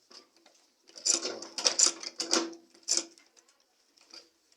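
A sewing machine stitches thick bag material in short, careful stop-start bursts of quick mechanical ticking, fairly quiet and near, with pauses between runs.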